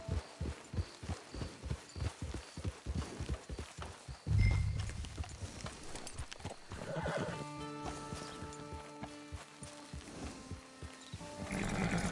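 Video game horse trotting with steady clip-clop hoofbeats, then a loud neigh and whinny, followed by layered game music and ambient tones as the hooves fade.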